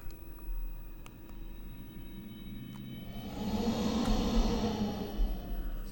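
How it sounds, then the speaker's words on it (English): In the horror game Nyakori's Rabbit Doll, wind blows from a mirror. A soft, hollow whoosh swells up halfway through and builds over a quiet droning room ambience with faint sustained tones and a few tiny clicks. "Sound of wind from the mirror."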